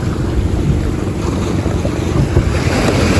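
Steady rush of surf washing in at a beach in Real, Quezon, mixed with heavy wind buffeting the microphone, continuous and loud throughout.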